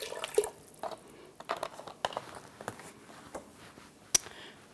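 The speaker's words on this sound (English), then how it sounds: "And I add into the water chicken broth." Chicken broth poured into a pot of water for boiling stuffed artichokes, a quiet series of light splashes and drips with small sharp clinks, close and intermittent, no talking.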